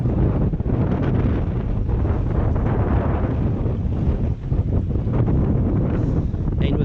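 Strong 20-knot wind buffets the microphone aboard a sailboat in a steady, roaring rush, with muffled water and boat noise underneath and a voice faintly heard.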